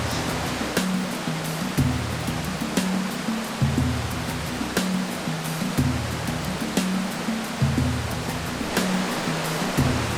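Rushing river water of Peyto Creek while people wade across it, a steady broadband roar with low rhythmic surges and sloshing pulses roughly every second, close and loud with no talking.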